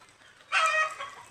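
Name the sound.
chickens clucking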